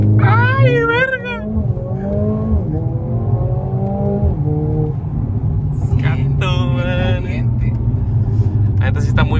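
Sports car launching and accelerating hard during a sports car group drive in Culiacán, engine pitch sweeping upward in repeated surges, loud and close, with excited voices talking over it throughout.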